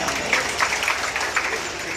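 An audience at a live comedy show claps in a loose, moderate burst, uneven and somewhat distant, with a voice heard alongside.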